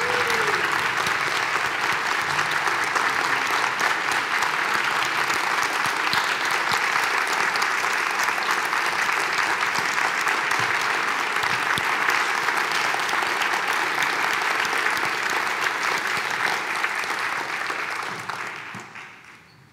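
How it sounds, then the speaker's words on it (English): Sustained, dense applause from a large audience honoring college founders at a tenth-anniversary event, steady and full for most of its length before fading out at the end. "We'd like to give you all a huge round of applause."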